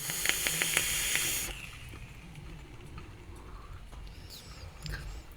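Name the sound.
vaping hit on Coil Art Mage V2 RTA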